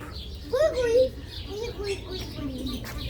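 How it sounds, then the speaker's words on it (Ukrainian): A pigeon calls once, a short warbling coo-like note, fairly close, followed by fainter calls over a steady background hum. "Голуб."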